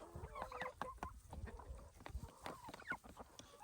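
A turkey kept among backyard chickens makes soft, close clucks and gobbling calls in a quiet, irregular stream of short notes.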